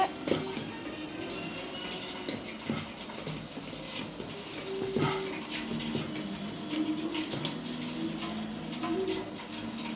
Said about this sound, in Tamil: லைட்டாக ஒரு தண்ணி ஊற்றிக்கோங்க, ஒரு 1/2 டம்ளர் தண்ணி